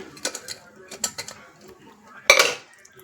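Cooked lentils tapped out of a vessel into a pot of thickened ragi: a few light metallic clinks and taps, then a loud clattering scrape of metal against the pot that trails off.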